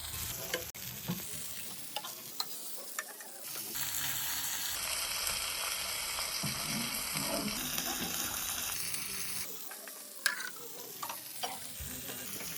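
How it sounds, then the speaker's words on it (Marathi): Halwa fish frying in a pan on a low flame makes a steady close sizzle. It swells into a louder hiss midway, then settles back to a gentler crackle. "मच्छी तळतानाही कधी बारीक फ्लेमवरतीच फ्राय करा।"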